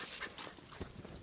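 A puppy whimpering softly, a few faint, short whines and yips in quick succession at close range.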